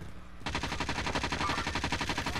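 Rapid automatic gunfire in Call of Duty: Warzone, a sustained loud burst of evenly spaced shots starting abruptly after a brief pause and continuing to the end.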